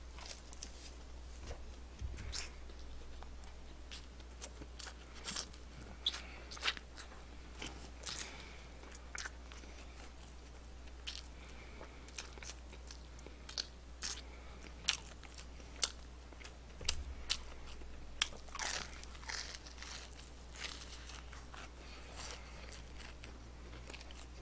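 Crunchy bites and chewing of crispy fried and soy-sauce fried chicken, close-up crackles and crunches repeating irregularly over a steady low hum.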